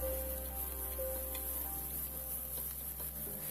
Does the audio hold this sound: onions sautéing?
yes